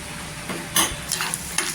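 Garlic frying in a pan until golden, a soft steady sizzle with a few sharp stirring scrapes of a utensil against the pan.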